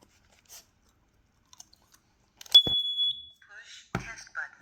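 A single high electronic beep rings out briefly from a Kidde combination smoke and carbon monoxide detector being tested, followed by short clicks and shuffling, with a faint voice-like sound afterward.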